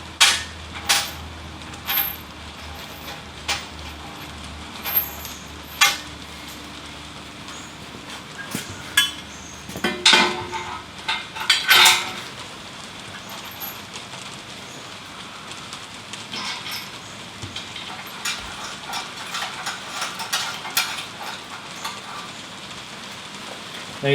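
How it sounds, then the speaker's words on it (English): Parts of a forge press built from a 40-ton log splitter are bolted together, with scattered metallic clinks and clanks of bolts and tools against steel, some sharp and close, over a quiet background. "we're just going to bolt this up using the same bolts as we did earlier"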